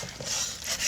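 Garlic and butter sizzle and spit in a hot pan in a pizza oven as they are basted, with faint metallic stirring scrapes close by and no talk.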